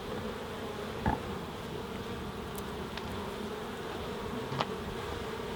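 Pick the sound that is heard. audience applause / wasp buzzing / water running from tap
wasp buzzing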